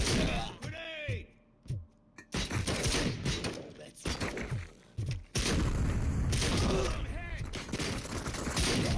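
Grenade blast in the video game RoboCop: Rogue City: loud booming bursts cut in and out amid rapid gunfire and clattering debris, with a voice shouting over the action.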